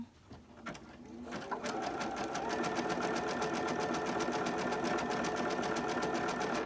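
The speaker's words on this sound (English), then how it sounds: "Now I'm not letting the machine pull the fabric" Sewing machine stitching fabric for an appliqué dog blanket, a steady rapid run of needle strokes that starts after a brief pause and then holds loud and even.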